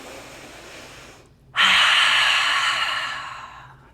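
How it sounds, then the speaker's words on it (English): One deep cleansing breath during a relaxation exercise: after a quiet pause, a long airy exhale starts abruptly and fades slowly over a couple of seconds, close and clear. "maybe give yourself a nice cleansing breath"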